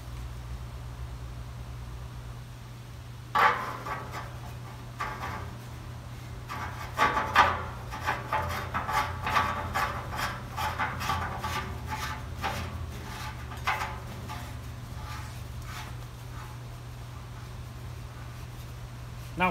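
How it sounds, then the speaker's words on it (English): Grinding on a metal pipe fitting for a woodgas heat exchanger build on a V10 Dodge, heard as a series of short rasping strokes of moderate loudness over a steady low hum. "I'm gonna grind that down just a little bit because it's kind of ugly."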